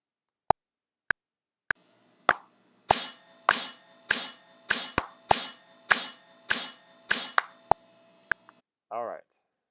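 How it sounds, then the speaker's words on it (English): Hands clap in front of a computer microphone, the sharp claps overloading and distorting; a few single claps are followed by a steady run of about ten rhythmic claps, loud and close, with a short vocal sound at the end. "I'm using clapping my hands in front of my computer mic, and it's causing a lot of distortion or just a very high signal level."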